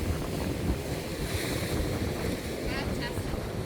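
Ocean waves splashing at Scotts Head, New South Wales, make a continuous rushing wash under heavy wind buffeting on the microphone, with a faint voice briefly audible near the end.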